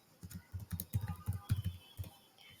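A password is typed on a computer keyboard, a quick close-up burst of about a dozen crisp keystrokes in uneven rhythm, with no talking.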